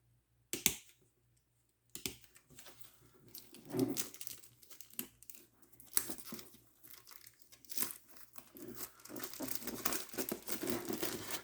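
A blade slicing through the plastic wrap on a Dragonbane boxed game set, with close crinkling, tearing and scratchy scraping in uneven bursts after a brief silence, growing busier toward the end.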